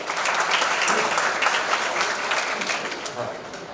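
An audience breaks into applause for a participant, a dense burst of close clapping that stays strong throughout and eases slightly toward the end.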